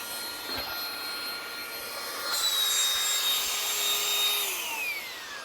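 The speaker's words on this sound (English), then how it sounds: "I just turn on this pump. And we continue getting the air out from the air mattress." A small electric air pump draws air out of a Tesla air mattress, a steady, close whirring drone with a faint high whine that rises slightly midway and holds, no talk.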